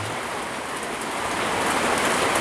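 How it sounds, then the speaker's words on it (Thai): Steady rain pours down in a dense, even hiss that continues without a break. "ฝนตกครับ"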